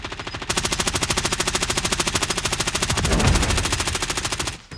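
Rapid automatic gunfire from the video game Warzone rattles in a long, evenly spaced burst, loud and close, with a heavier thump midway before it cuts off near the end.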